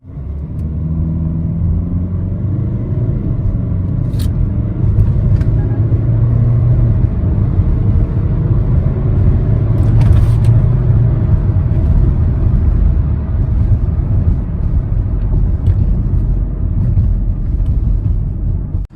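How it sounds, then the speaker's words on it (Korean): A 2016 Hyundai Tucson 2.0 diesel SUV accelerating in sport mode, heard from inside as a loud, steady engine drone and road rumble that holds throughout with no talking. "일단 스포츠 모드에 놓고 가속을 했어요."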